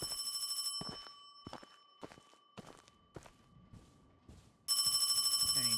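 Telephone ringing in the ghost-story video game Paranormal HK, loud electronic rings in bursts at the start and again at the end, with soft footsteps and quiet in-game movement between them.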